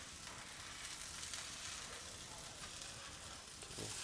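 Homemade burger patties fry in a pan with a steady, dense sizzle and crackle that fills the whole stretch evenly, close but quiet, with no talking over it.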